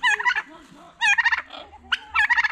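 A turkey at the Copan ruins in Honduras gives repeated rapid, warbling gobbles in three bursts, loud and close, with faint background movement between the calls.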